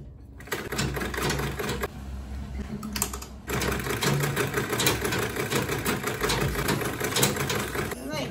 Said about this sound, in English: I'm just going to sew around it to close it up.